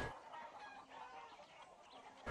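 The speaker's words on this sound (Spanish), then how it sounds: "Ah, hay un gallo aquí." A rooster in the video game Far Cry 6 clucking softly and continuously in short, quiet calls, with no talk over it.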